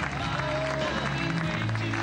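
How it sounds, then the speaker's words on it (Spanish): A television studio audience applauds as a contestant leaves a singing academy show. The clapping is brief and steady under music, with sustained tones and swelling crowd noise mixed in. "Con aplausos se despide"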